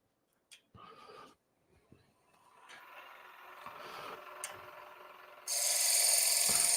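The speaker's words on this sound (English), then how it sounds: "So we'll continue scraping the rest of this and get it all looking like that." A wooden bowl spinning on a lathe is scraped with a negative rake scraper, giving a dry rasping, rubbing sound that comes in short bursts and then settles into a steady scrape that grows louder and harsher at the end.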